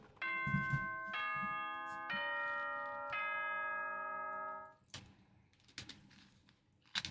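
The school announcement chime from the Danganronpa video game plays loud and clear as a four-note sustained ding-dong melody. A few faint clicks and knocks follow it.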